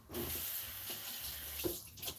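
Tap water runs steadily into a sink, a soft continuous splashing rush close by with a few small shifts in the flow.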